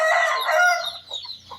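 A hen sounds off loudly up close with a drawn-out crow-like call, followed by a few softer clucks, after a night of heavy rain.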